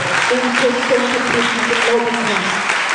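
A church congregation at a Sunday service breaks into applause and acclamation, loud clapping mixed with voices and sung or shouted tones running through the whole stretch.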